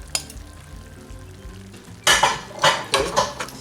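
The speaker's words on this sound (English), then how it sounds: "Stir that up a little bit." Steak medallions with onions and mushrooms being stirred in a hot pan: a faint sizzle at first, then several loud bursts of scraping and sizzling as the utensil moves the food, with a light clink at the start.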